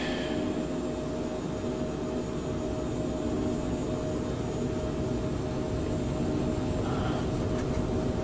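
Phenom 100 twin jet engines at full takeoff thrust in Microsoft Flight Simulator, a loud, steady broadband roar and whine that holds constant throughout without a break.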